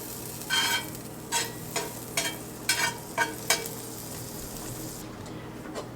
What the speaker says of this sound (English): I've got my pan over low heat. I'm just going to add just a little bit of butter to the pan